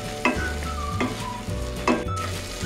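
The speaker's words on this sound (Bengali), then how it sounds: "কাজু আর কিশমিশের পেস্টটা দিয়ে দেব পুরোটাই দিয়ে বেশ কিছুক্ষণ ধরে আমি নাড়াচাড়া করব" A spoon stirs cashew and raisin paste frying in chana masala. It makes a few distinct scraping strokes against the pan over a continuous close sizzle, with no voices.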